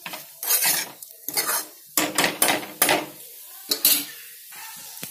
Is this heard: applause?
no